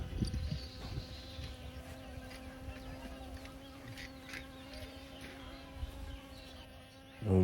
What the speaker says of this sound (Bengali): দেখেন কিভাবে মৌমাছিরা মধু করতেছে, কত ফুল